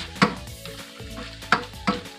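Macaroni soup being stirred in a pot, with a few distinct scraping knocks of the spoon against the pot over a steady low simmering background, close and moderately loud, no talking.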